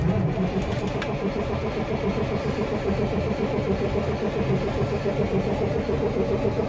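Old Ford CL9000 truck diesel engine cranking and running in near-freezing cold, a steady dense rumble with a fast rhythmic chug throughout, loud and close, with no talk.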